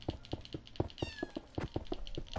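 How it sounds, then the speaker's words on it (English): A pet cat meows close by indoors, a short few-second stretch of rhythmic pulsing sounds with a brief higher chirp in the middle. "You guys hear my cat meow?"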